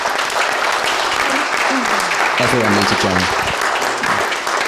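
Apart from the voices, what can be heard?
audience applause at a live podcast event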